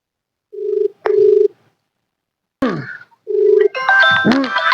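A phone rings with short electronic tone bursts, broken by a pause, then a rustle and a grunt-like voice before a busier, melodic ringtone plays.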